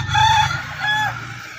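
A rooster crows loudly and close by, one short drawn-out call with no other sounds around it.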